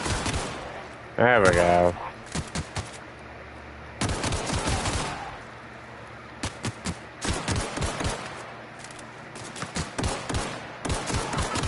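Gunfire from The Outer Worlds video game comes in loud, irregular bursts of rapid shots separated by short gaps. Someone speaks briefly between the volleys.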